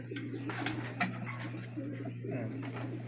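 Racing pigeons coo in soft, repeated throaty bursts from nearby, several birds overlapping over a constant low electrical hum.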